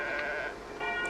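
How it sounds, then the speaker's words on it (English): Sheep bleat in open countryside, a couple of quavering calls rising over steady outdoor background noise, moderately close and fairly faint. "People herding sheep."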